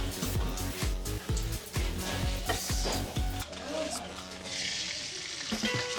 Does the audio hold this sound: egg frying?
yes